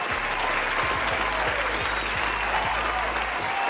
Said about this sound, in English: So everybody give a round of applause for Darren Steward from Mount Healthy High School.